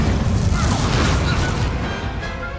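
The Incendio fire spell erupts in the Hogwarts Legacy video game with a loud, booming, crackling burst that fills the clip and slowly tails off.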